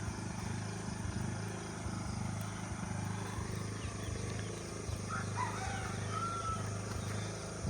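A rooster crows amid a continuous farmyard din near cornfields, with other fowl clucking in a steady background hum.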